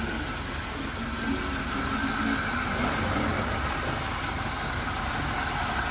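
A 1996 Suzuki Katana (SJ410 Jimny) engine idles steadily and smoothly up close, a constant low rumble with a faint mechanical whine above it.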